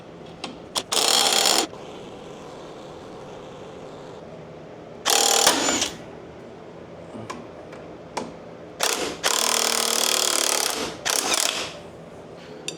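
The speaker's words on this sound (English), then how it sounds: "let's see if we can get this lower ball joint to press out" Ball joint press working a lower ball joint out of a Jeep TJ, with several loud bursts of rapid ratcheting, likely an impact wrench, between stretches of quiet and a few sharp metallic clicks.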